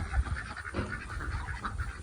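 Peking ducks, two drakes among hens on a small farm, give repeated honking quacks close by over a low background rumble.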